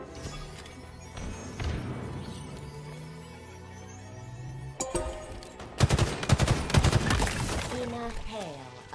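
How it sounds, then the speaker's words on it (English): Halo Infinite gunfire: rapid automatic bursts and sharp shots rattle loudly, intensifying toward the end over a busy mix of game effects. "Hail of gunfire."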